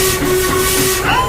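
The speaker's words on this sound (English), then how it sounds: "Gordon's speech was interrupted by a booming whistle in the distance." A steam locomotive whistle sounds in the distance ahead of a heavy goods train, one long sustained steady tone over a hissing background, swelling louder near the end.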